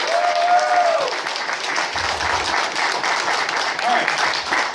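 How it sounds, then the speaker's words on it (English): An audience at the ACE 2018 furry convention in Raleigh, North Carolina claps and cheers in a dense, steady round of applause that lasts throughout, with a few voices calling out over it. "so give him a round of applause"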